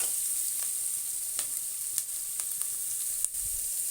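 Ginger-garlic paste and garlic cloves fry for a bitter gourd curry in a steady, bright hiss of hot oil, nearby and even, broken by a few sharp spatter pops and light stirring knocks.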